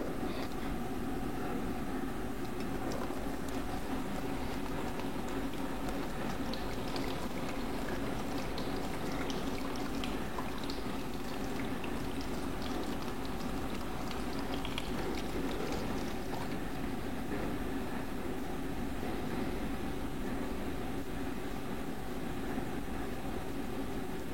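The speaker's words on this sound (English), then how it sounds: "if you look at the water coming out of the bottom hole, what you'll see is that the water velocity decreases as the water level drops in the tank" A water jet drains steadily from the bottom hole of a tank, giving a continuous, even splashing and pouring rush that stays constant throughout, with no voices.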